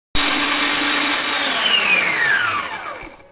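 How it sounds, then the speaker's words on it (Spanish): Electric hand mixer whirring steadily at high speed while beating egg yolks for Mexican gaznates and meringues, a loud continuous motor whine that starts abruptly, holds, and its pitch slides as it winds down near the end. "vamos a empezar a batir a velocidad alta"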